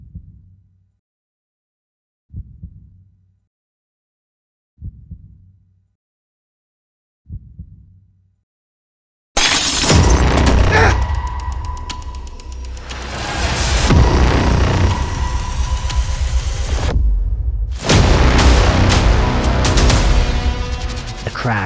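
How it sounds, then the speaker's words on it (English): A glass kitchen window crashes and shatters. Four soft, low thuds like heartbeats come first, then a sudden loud crash bursts in and runs on as sustained shattering and clattering debris. No one speaks. "crash came from the kitchen window behind me, a symphony of glass-shod cymbals, trumpeting thuds, shattering violins"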